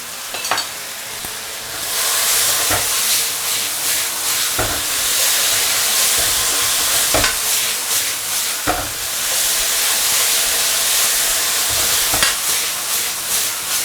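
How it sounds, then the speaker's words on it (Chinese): Starch slurry is stirred into a hot wok with shredded pork and lettuce stem, producing a loud, dense sizzle and hiss throughout, punctuated by sharp clanks of the spatula against the metal every second or two. "快速的给它搅拌，均匀下锅"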